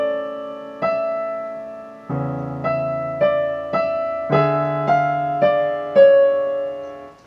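Solo piano plays one slow measure from the Adagio sostenuto of Rachmaninov's Piano Concerto No. 2: a sustained left-hand bass chord under a rising right-hand line of single notes, each note struck clearly and left to ring, with no talking.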